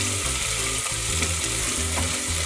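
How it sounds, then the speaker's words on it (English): Onions browning in a pan crackle with a loud, steady sizzle as they are stirred, backed by continuous background music. "I'll just have to brown the onions."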